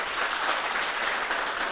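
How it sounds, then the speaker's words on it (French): Dense, even applause from a gathered audience at a youth event in Koumassi, steady and fairly loud with no gaps or talking over it. "Ça peut s'applaudir, amis jeunes."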